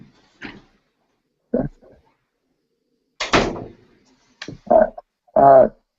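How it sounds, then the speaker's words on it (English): A door is shut indoors, heard as a few short separate knocks and thuds scattered across several quiet seconds, close by and alone. "Yeah, I'll close the door too."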